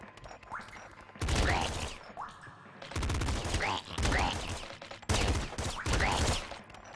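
Grenade launcher fire in the twin-stick shooter Nuclear Throne: loud, punchy bursts of blasts and explosions recurring every second or two, with rumbling lows between volleys.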